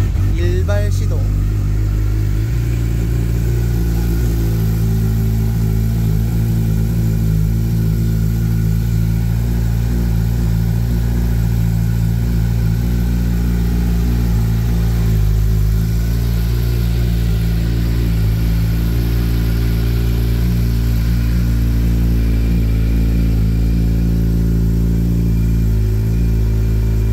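A 2022 Suzuki Hayabusa motorcycle with 8,895 km on the clock idles steadily just after starting, its deep, even engine rumble loud and close throughout with only small shifts in tone.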